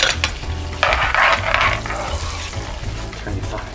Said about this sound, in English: when I'm sauteing the onions and peppers